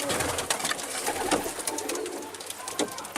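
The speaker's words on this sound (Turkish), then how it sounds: "Kuşlar birbirine girdi" Pigeons coo in a Turkish backyard coop, soft repeated throaty calls overlapping at close range with faint rustling and background noise.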